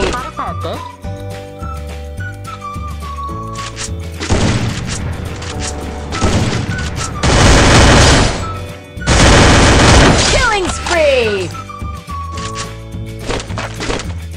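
Gunfire and booming shots in the Free Fire battle royale game, dense bursts of rapid fire swelling to loud sustained volleys mid-clip, with game music and effects around them and a voice talking in between.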